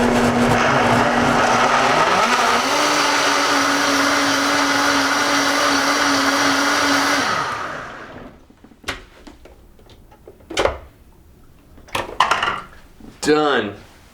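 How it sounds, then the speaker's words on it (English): A blender whirs loudly and steadily for about seven seconds, its motor pitch stepping up partway, as collard greens and water are blended into a smoothie; after it stops, a few clinks and brief voices follow. "And we blend."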